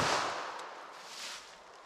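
A single sharp gunshot from a Winchester Silvertip .380 ACP round fired into ballistic gel cracks at the start and then decays into a fading echo.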